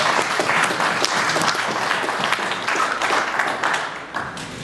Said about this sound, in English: Let's hear it for Tiago.